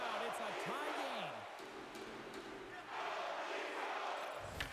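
A hockey arena crowd at a tied Buffalo Sabres versus Toronto Maple Leafs NHL game sends up a steady broad roar of cheering that swells twice, with a commentator talking over it.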